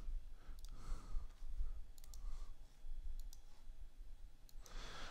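Faint computer mouse clicks while working in Blender, several quick soft double clicks spaced irregularly over steady low background hiss, with no talking.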